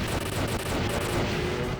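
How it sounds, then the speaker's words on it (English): Arcade shooter 1944 The Loop Master erupts with a dense, continuous roar of explosions and gunfire-like blasts, loud and sustained with no pauses or talk. "That was a beast of an explosion."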